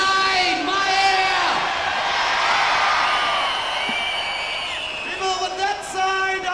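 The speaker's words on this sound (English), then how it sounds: "we're going to do the Singapore cheer" A large stadium crowd at Singapore's 1990 National Day Parade jubilee roars the Singapore cheer, a loud sustained mass of yelling and whooping with a leader's voice shouting over it at the start and end.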